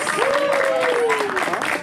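An audience applauds steadily through a poetry show, with dense clapping running under a voice speaking over it.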